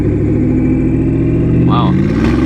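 Porsche Panamera Turbo with side exhaust holding a loud, close engine drone that climbs slightly in pitch for a couple of seconds, with a brief voice over it.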